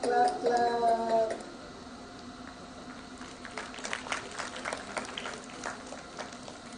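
Audience clapping at a professor's retirement function, heard faintly and at a distance as a scattered patter of hands that follows a short voice at the start.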